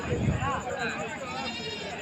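Male goats bleating at a rural goat market in Ramapuram, Rayachoti, with a busy crowd murmuring and people talking close by throughout.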